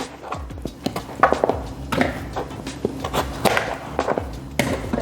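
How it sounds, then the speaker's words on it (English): A knife cuts beets into sections on a cutting board, giving a close series of irregular thuds and chops with a few louder knocks, no voices. "I'm just gonna cut them in sections and I'm gonna stick them in that food processor."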